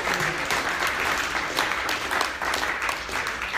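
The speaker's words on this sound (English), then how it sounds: "Let's give them a big round of applause." An audience claps steadily and densely for the whole stretch, a full, even round of applause with no talking over it.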